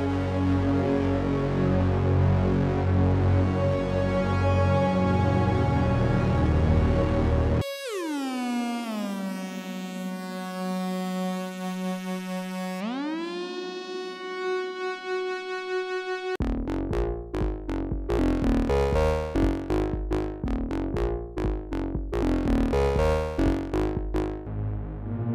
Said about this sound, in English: we are going to make five sounds on the Melbourne Instruments Delia